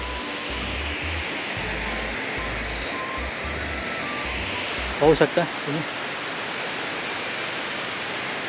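Distant Dhodhani waterfall near Panvel, a steady, even rush of falling water filling the background, with someone briefly speaking over it midway.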